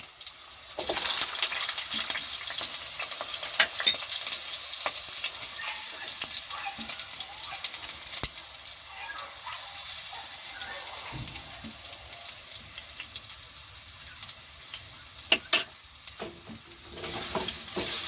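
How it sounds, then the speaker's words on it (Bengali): Potatoes fry in hot oil with a little salt and turmeric, giving a continuous soft sizzle with occasional clicks and scrapes of a utensil against the pan. "এরপর আমি আলুগুলো ভেজে নিচ্ছি সামান্য নুন আর হলুদ দিয়ে"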